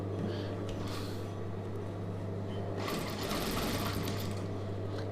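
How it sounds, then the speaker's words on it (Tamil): A sewing machine stitches fabric for a star-neck chudidhar, a fast, steady mechanical whirr close by, pausing briefly midway and then running again. "இப்போ அப்படியே இந்த பக்கம் தைச்சிக்கலாம்."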